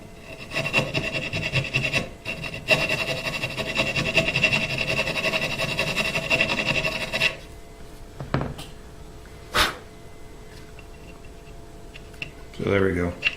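A wooden custom electric guitar body is hand-sanded with coarse 80-grit sandpaper, giving steady, close raspy rubbing strokes for several seconds before the scraping stops and only a few brief knocks and handling noises follow.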